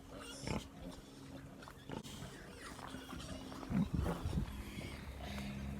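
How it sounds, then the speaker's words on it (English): Piglets squeal in a crowded pen at a farm while pigs are being moved between pens, with brief shrill bursts rising over steady background shuffling and grunting, loudest near the end. "piglets are squealing over here"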